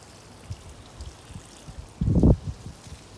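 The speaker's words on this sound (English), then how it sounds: "And all we're gonna do now is just water it in." Water poured onto the soil around a newly planted Sugar Baby watermelon seedling, starting with soft scattered drips and then swelling into a brief, fuller splashing pour close to the ground.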